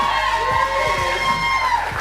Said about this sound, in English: give me a big round of applause for Jason Weems